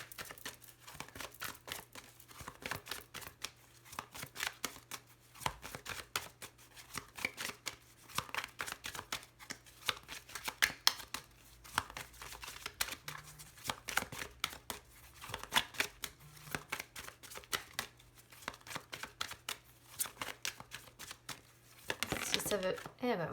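Oracle cards are shuffled by hand over and over in a steady stream of soft riffling, slapping and flicking, fairly close, with a brief burst of sharper crinkling near the end.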